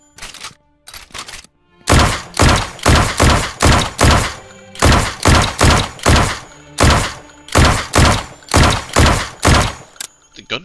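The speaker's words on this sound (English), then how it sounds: "The gun fires really nicely, actually." Gunfire in the indie survival game No One Survived: a short burst, then a long run of loud, evenly spaced heavy shots in quick rhythm with brief pauses, each a hard thumping blast close up.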